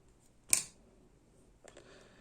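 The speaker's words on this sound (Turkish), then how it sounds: "bu fazla ipimi burada kesiyorum" A single quick snip of small scissors trims excess thread during Turkish needle lace work, close and brief, followed by faint rustling of thread and handling.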